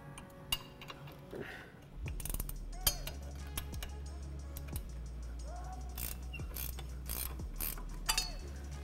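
Ratchet wrench with an 18mm socket turning the lower shock mount bolts on a supported front axle, rapid repeated clicking bursts of the pawl, close and clear over a low hum, with no talking.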